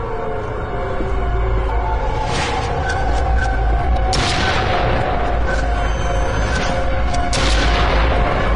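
Shotgun blasts in the horror game Devil Inside Us: Roots of Evil, heavy booms repeating over a loud, continuous din.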